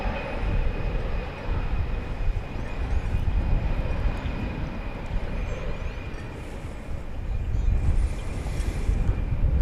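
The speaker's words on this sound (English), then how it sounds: "CRJ 701ER was that aircraft" A CRJ 701ER regional jet at DFW Airport rumbles steadily, a broad low roar mixed with wind buffeting the microphone and a faint high whine, holding at a constant level throughout.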